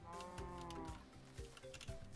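A cow moos in the Minecraft video game, several short low, groaning calls in quick succession, fairly close and alone without speech.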